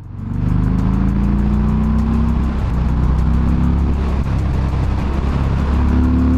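Harley-Davidson Fat Bob motorcycle engine while riding, fitted with exhaust baffles, a loud, continuous low throbbing rumble that holds steady throughout, heard close with no talking.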